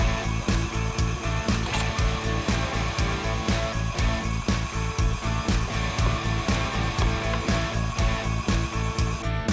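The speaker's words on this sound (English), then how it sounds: "While grinding, alternate between adding the meat and the veggie blend" A meat grinder working boudin sausage meat and vegetables: a loud, continuous motor drone with a rapid rhythmic churning pulse, close up and unbroken.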